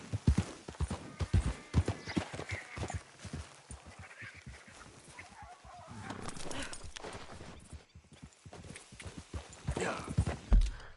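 Horse hooves clip-clopping in the Red Dead Redemption 2 video game, a fairly quiet, uneven run of hoof strikes that thins out midway and then picks back up, with faint ambient noise between steps.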